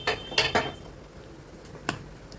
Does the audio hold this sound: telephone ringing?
no